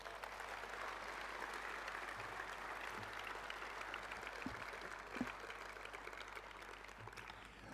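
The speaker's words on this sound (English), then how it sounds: "Please give him a big round of applause." Sustained applause from a Hall of Fame ceremony crowd, a dense steady clatter of clapping throughout, heard from some distance at moderate volume.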